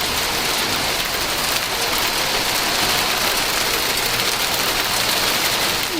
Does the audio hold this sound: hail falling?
yes